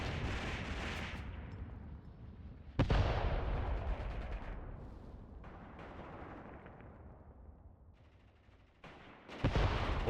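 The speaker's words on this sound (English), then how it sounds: "Wolberg is still being cut down by those mortars" Mortar fire in the Mius Front war video game: heavy booming blasts with a long rumbling roar and decaying rolls, two sharp loud impacts standing out amid continuous dense battlefield noise, no voices.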